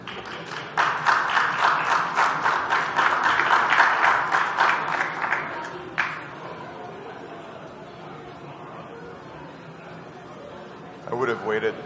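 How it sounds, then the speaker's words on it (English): A room of people at a pitching event applauds steadily for several seconds before a signing, the clapping thinning out and stopping, with a few voices speaking briefly afterward. "I would have waited before clapping that they would have signed it,"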